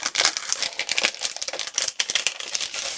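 Crafty Critta toner foil sheets are handled close up, producing continuous irregular crinkling and crackling with sharp rustles throughout.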